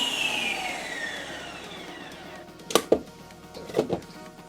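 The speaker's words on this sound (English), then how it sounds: "Let's spin the one that I already made." A Ninja Creami machine spins frozen light ice cream with a steady whirring motor hum, followed by a few sharp clunks and knocks near the end.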